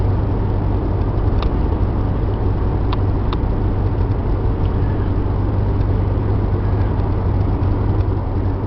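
A Holiday Rambler Class A motorhome's generator running, a steady, unbroken engine drone that holds an even level throughout, with a few faint clicks on top and no talk.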